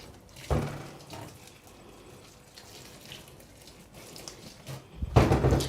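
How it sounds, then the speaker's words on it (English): Hot water poured over waxed batik fabric to rinse away the wax: a soft running trickle with louder splashing pours near the start and end, close by and without talk. "we're just going to pour the hot water on the fabric just to take all the wax away"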